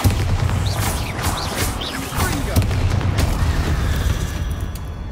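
A Bombarda explosion spell blasts in the video game Hogwarts Legacy, giving booming, crackling bursts with voices and game sounds layered over the rumble.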